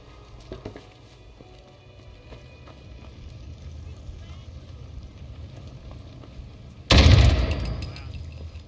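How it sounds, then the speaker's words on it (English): Turret gunfire in Fallout 4 VR, a sudden loud burst of shots near the seven-second mark that rings out and fades, preceded by low game ambience and faint background sounds. "It's a turret."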